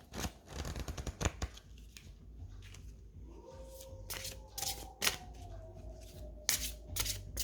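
Oracle rune cards being shuffled by hand for a one-card draw, a run of quick papery riffles and slaps, close and fairly quiet, with no talking.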